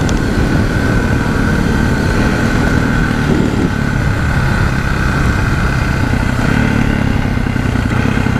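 A KTM 525 motorcycle cruises at low RPM near 60 mph, its engine a steady, close, even drone with a faint mechanical clatter and no speech.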